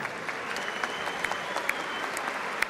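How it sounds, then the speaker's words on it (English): Boxing arena crowd at a British welterweight title fight clapping for both fighters after the bout is stopped, a steady mass of applause with sharper individual claps standing out. "referee Marcus McDonough would like to show an appreciative round of applause for both boxers"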